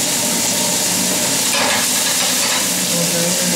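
Loud, dense sizzle of pork spareribs browning in oil in a frying pan, close and continuous with a brief burst of crackle as the meat is moved.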